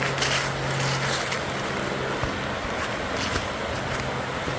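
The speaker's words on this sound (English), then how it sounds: "now up above it we can hear the water" Creek water rushes steadily below a hiking trail on the Appalachian Trail near Damascus, a continuous broadband wash heard from above at an even level, with no talking.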